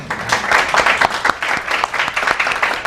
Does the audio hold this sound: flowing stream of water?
no